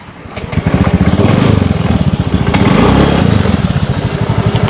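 A motorcycle engine runs up close and loud, with a rough, rapid throbbing that rises and dips slightly as it revs.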